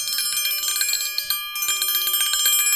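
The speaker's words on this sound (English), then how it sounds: "And the bell again." Small bell rung repeatedly in quick bursts, bright and metallic, close and fairly loud, with a brief pause mid-way before the ringing resumes.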